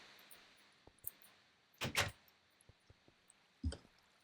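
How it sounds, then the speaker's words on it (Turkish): In the Minecraft video game, a door shuts with a short wooden clunk, followed by a second similar knock a moment later. Both are faint over quiet background clicks. "Kapı kendiliğinden mi kapanıyor? Biz mi kapatıyoruz?"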